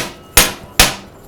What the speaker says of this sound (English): Impact driver is a great way to just break them free.